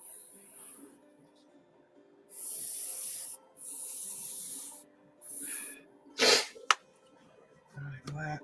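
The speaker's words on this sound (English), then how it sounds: "I'm cleaning my airbrush." An airbrush being cleaned sprays in several short bursts of hissing air, separated by pauses, close but fairly quiet, with a few small clicks and knocks near the end.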